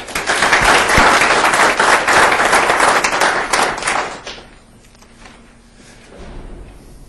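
Loud, sustained audience applause welcoming a lecturer at a 1989 lecture series event, dense clapping from a full hall that fades out after about four seconds into quiet room tone.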